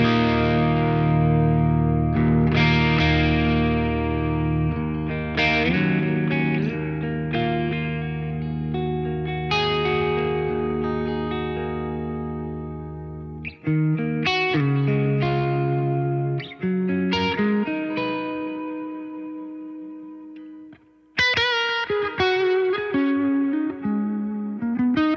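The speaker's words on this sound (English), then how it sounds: "Let's put a bit of reverb and delay back on." Electric guitar played through a Marshall JVM410H amp with reverb and delay, loud sustained chords and single notes ringing out with trailing echoes, one long phrase with brief breaks and no talking.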